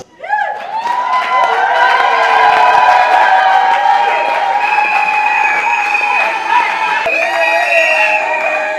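Wedding guests at a religious wedding celebration cheer, whoop and shout loudly for the groom, a dense, sustained crowd roar with high voices and ululation-like tones running throughout.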